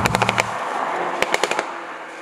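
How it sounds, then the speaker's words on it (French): Mercedes-AMG GT R exhaust firing a rapid burst of sharp pops and bangs, then a second crackling volley after a brief lull, loud and close over a steady engine drone. "Et chaque rétrogradage, ça pète, ça éclate dans l'échappement."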